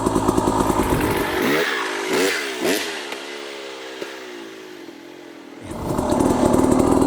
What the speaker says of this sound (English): Now every time you do that, the bike's going to speed up a little bit.